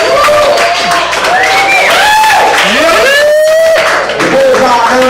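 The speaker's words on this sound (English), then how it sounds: "Give him a round of applause" A comedy club audience at Off Kilt claps and whoops loudly, with rising and falling shouted cheers over a bed of applause, while someone talks amid the noise.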